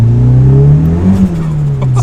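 Turbocharged Mitsubishi Lancer spinning a wheel on a street, engine held at a loud steady high rev with a brief dip and rise midway, close and continuous with no talk.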